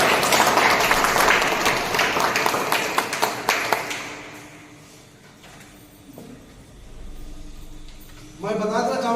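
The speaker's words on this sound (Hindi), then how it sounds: "ताली" An audience breaks into loud, dense applause at a health-product presentation for Dento Dog cream. The clapping fades over several seconds into quieter room noise, and a voice comes back near the end.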